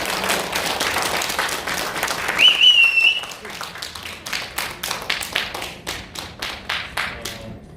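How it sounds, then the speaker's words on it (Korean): Audience at a parliamentary seminar on impeachment bursts into loud, dense applause that peaks early, then thins into scattered, separate claps that fade toward the end, with a little background murmur. "다시 한번 큰 박수 부탁드리겠습니다"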